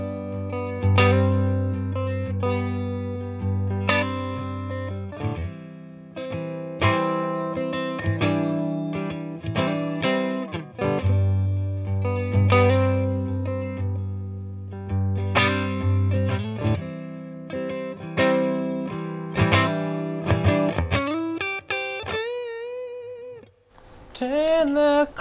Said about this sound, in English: Just the Fender Deluxe Reverb with the Big Dipper pickups.